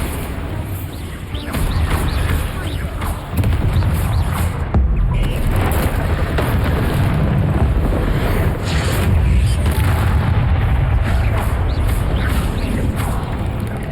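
Bombarda and Confringo spell explosions from the Hogwarts Legacy video game: a sustained barrage of loud, rumbling blasts and booms runs throughout, dense and near, with no talk.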